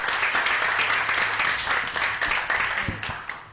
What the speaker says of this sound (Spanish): Emanueli, un aplauso a esta ilustre mujer puertorriqueña.